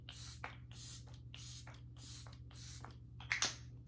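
Fix Plus Stay Over setting spray misted onto a face, five quiet, evenly spaced hissing sprays over a low steady hum, followed by a couple of faint clicks.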